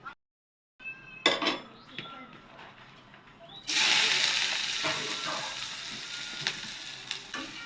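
Onions and green chillies hit hot oil in a pan for shing fish bhuna, bursting into a loud, close, continuous sizzle after a few clanks of utensils and pan, with faint stirring scrapes throughout.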